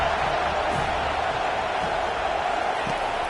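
Dense, steady roar of a large crowd in the Alabama football stadium during a game, a continuous wash of distant voices with no break.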